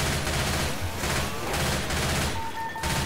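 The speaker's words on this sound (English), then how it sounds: "I'm gonna shoot a gas can." Rapid gunfire rattles in the video game Left 4 Dead 2 as a player shoots at a gas can, a loud, dense burst of shots sustained for a few seconds, up close and with no talk over it.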